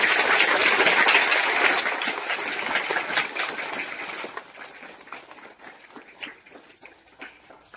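A school audience in Lakhangaon claps for a visiting journalist, the applause dense and loud at first, then thinning into scattered claps as it fades.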